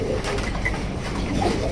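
A pair of domestic pigeons with two chicks coos softly and close by in a brief, steady murmur.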